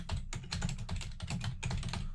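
Rapid typing on a computer keyboard, a steady run of crisp key clicks in quick bursts with short pauses, close and alone without any voices.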